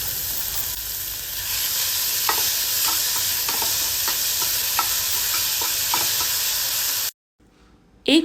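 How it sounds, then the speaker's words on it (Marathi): Finely chopped onion with cumin, garlic and ginger sautéing in a pan for palak paneer, a loud steady sizzle with repeated scraping stirs, then a sudden near-silence and a brief final clatter. "हा कांदा आहे ना व्यवस्थित असा परतून घ्यायचा आहे"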